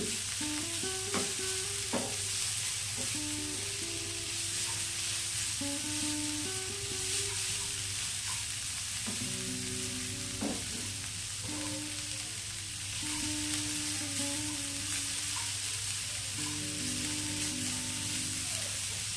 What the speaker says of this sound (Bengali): পাঁচ মিনিট মতো সময় ধরে শাকগুলো আমরা ভালো করে ভেজে নিয়েছি